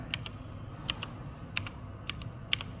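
Keys pressed on an ETC Eos lighting console: about eight crisp, separate clicks at an uneven pace over a low room hum, close and fairly quiet, with no talking.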